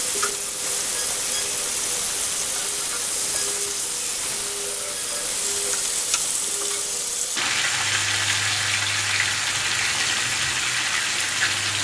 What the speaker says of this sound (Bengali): তো আমি এভাবে চিকেনটাকে ভেজে নিচ্ছি, চুলার আঁচটা মিডিয়াম থাকবে।